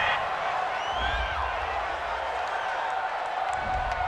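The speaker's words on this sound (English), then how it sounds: "This home crowd, they're happy with that call." Stadium home crowd in a Madden NFL game, Bengals versus Rams in Los Angeles, a steady broad roar of cheering that fills the whole stretch at an even, fairly loud level, with no talk over it.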